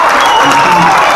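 A concert audience applauding, a brief, loud wash of many hands clapping with a faint hint of crowd noise.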